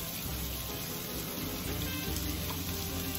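Fried rice with ham, onion, paprika and green peas sizzles in a pan, a dense, steady hiss of frying that stays loud and even throughout with no talking.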